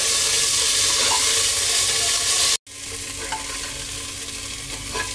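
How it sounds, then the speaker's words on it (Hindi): Cauliflower sizzles steadily in a hot pan while being stirred, with a brief break midway before the frying and scraping continue. "अब इसमें हम गोभी डाल देंगे और गोभी को हम अच्छी तरह से भून लेंगे"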